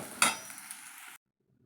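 Raw plantain pieces sautéed and stirred in oil in a pan, giving a sharp scrape of the spoon followed by a steady soft sizzle for about a second before the sound cuts off to silence.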